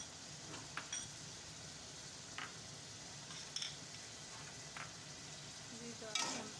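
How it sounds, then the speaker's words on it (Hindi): Spices and tomatoes being stirred and fried in a pan for chicken karahi, with a steady low sizzle under a few sparse scrapes and clicks of the spoon against the pan. "जी तो अब हम सारे मसालों को मिक्स कर लेंगे। साथ ही साथ टमाटर को भून लेंगे।"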